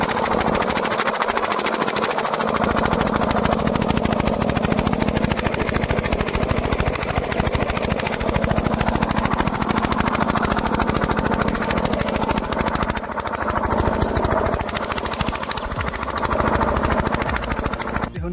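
A water pump machine engine runs loud and close with a steady, throbbing mechanical drone that holds for the full stretch, apart from a brief dip near the start.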